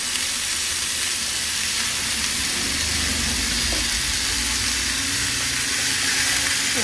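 Food sizzling and frying in a small wok as it is stirred, a steady dense hiss throughout with faint scraping, close and fairly loud with no talking.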